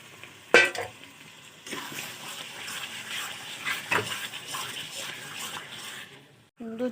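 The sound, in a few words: stir-frying marinated chicken in spice masala in pan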